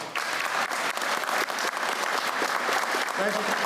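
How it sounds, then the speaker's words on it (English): A crowd at a public gathering in Chillicothe claps together in a sustained, loud round of applause for veterans, with a few voices faintly mixed in near the end. "Let's give them a round of applause, please."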